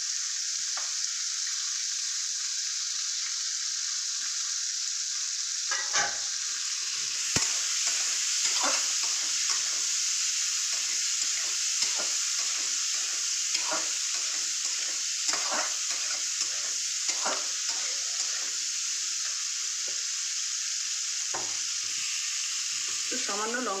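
Dried fish (shutki) fries in a pan alongside beans, giving a steady hiss with intermittent crackles and stirring scrapes, close and moderately quiet.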